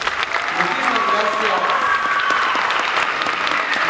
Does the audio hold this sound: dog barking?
no